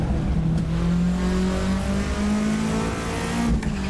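Toyota Celica ST185 Group A rally car in Assetto Corsa, its engine droning loud and steady at high revs on track, with pitch rising gradually and brief shifts between gears.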